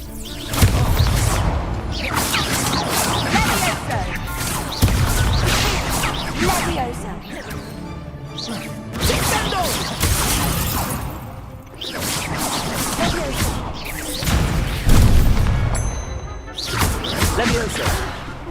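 Spell effects from the Hogwarts Legacy video game, Protego and Expelliarmus, with repeated whooshes, thwacks and crashing impacts in a busy, loud combat mix, heard alongside a voice talking over them.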